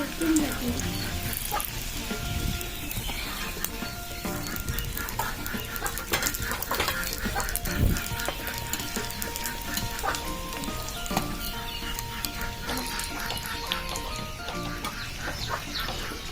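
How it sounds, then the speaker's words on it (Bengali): Three egg parathas fry together in oil in a wok, producing a dense, continuous crackling sizzle that stays loud and close throughout. "আমি একসাথে 3টে ভাজবো।"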